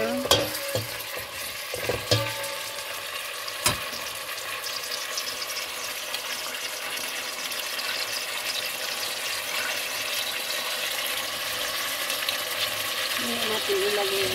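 Beef sizzles and fries in a hot pan for ampalaya with beef, with intermittent stirring clatters early on and a steady close frying hiss throughout.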